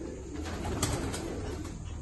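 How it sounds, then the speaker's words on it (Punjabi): Malwai pigeons cooing inside a loft, a soft low continuous murmur of several birds at moderate distance with no talk over it. "ਇਹ ਬਹੁਤ ਚੰਗੇ ਕਬੂਤਰ ਹੈ"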